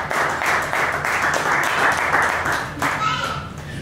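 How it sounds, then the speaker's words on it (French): Church congregation applauding and cheering for the Lord, a sustained burst of clapping mixed with voices, fairly loud and continuous for a few seconds, easing slightly near the end. "Est-ce qu'on peut acclamer les Seigneurs?"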